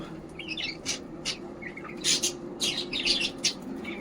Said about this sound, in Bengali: এই যে আমার বাড়ির ময়ূর পায়রাগুলো এখন